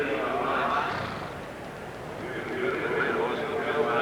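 Racehorses at the 1987 Auckland Cup walk out to the start, with whinnies and hoof clops heard under steady race-day commentary and the murmur of a packed crowd.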